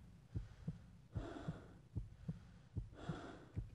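Heartbeat and breathing from the horror game Afraid of Monsters: Director's Cut, a steady thudding double-pulse heartbeat with heavy breaths swelling between beats, faint and alone.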